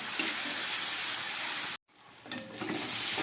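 A spice paste is sautéed with a little water in a pan, sizzling loudly and steadily, briefly cutting out before the hiss and bubbling return.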